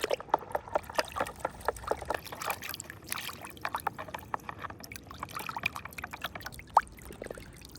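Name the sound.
washing a dirty toy truck with water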